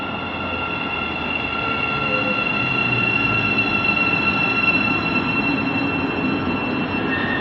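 A Thameslink Class 700 electric train passes through Hendon station with a steady rumbling roll and a sustained high whine, loud and close throughout.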